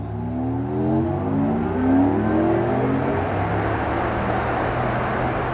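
Synthetic engine sound designed for an electric car, a smooth rising whir with gliding tones that swell and sweep upward like acceleration, played back loudly and steadily with no talking.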